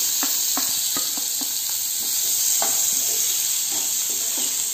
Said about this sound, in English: With this, I am going to add our chopped onions.